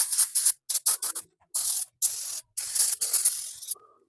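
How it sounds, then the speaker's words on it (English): Brake cleaner is sprayed around the brake area of a Mercedes S550 in short hissing bursts of uneven length, with a couple of longer sprays. The bursts are close and fairly loud, with brief gaps between them. "So I'm gonna clean up this area a little bit with some brake clean."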